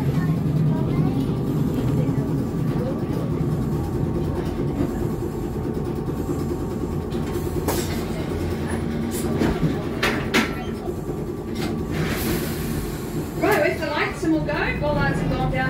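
A Christchurch tram rolls along between stops with a steady rumble and rail clatter under a guide's spoken commentary, with a few sharper squeals and clanks near the end.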